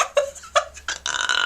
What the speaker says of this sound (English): I think I'm getting the hiccups.